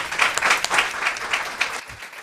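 Audience at a Space City Classic 2021 media day applauding for Jose, a dense burst of clapping from a crowd, loud and continuous with slight swells, then tapering at the end.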